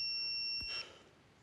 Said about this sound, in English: It's my emergency pager.